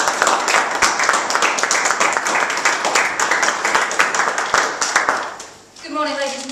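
Dense, steady audience applause as a speaker is welcomed onto a stage, a loud wash of many clapping hands for several seconds that fades out, followed by a voice beginning to speak.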